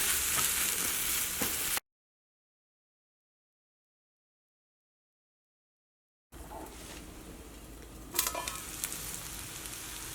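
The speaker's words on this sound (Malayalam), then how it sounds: "ഇനി നമ്മുടെ ഈ സവാളയുടെ പേസ്റ്റും ഇതിനകത്ത് കിടന്നിട്ട് നന്നായിട്ട് മുരിഞ്ഞ് വരണം" Onion paste frying in oil in a pan: a steady, close hiss of sizzling that cuts out into silence for a few seconds, then returns, with a brief scrape or stir near the end.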